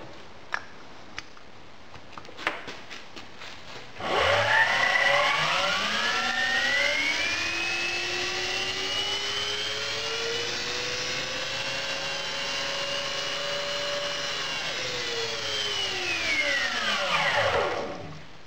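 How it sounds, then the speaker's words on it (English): A series motor drives an alternator loaded with light globes totalling about 190 watts: after a few clicks, a steady loud whine starts, holds for about thirteen seconds and then winds down as the motor stops. "we'll see if the series motor will drive the alternator"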